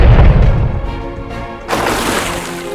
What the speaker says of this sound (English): Load the cannon! Fire!